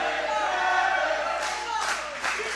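A roaring arena crowd cheers in the Super Shogun Wrestling video game, a steady wash of noise with louder swells near the end.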